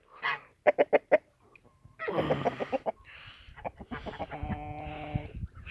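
A rooster clucks in a quick series of sharp, close calls, then gives longer, throatier cackles and a drawn-out squawk.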